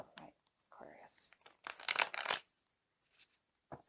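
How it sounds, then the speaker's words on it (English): Tarot cards being shuffled in hand, several crisp papery riffles and crinkles in short bursts with quiet gaps, close and soft. "Just do one more shuffle."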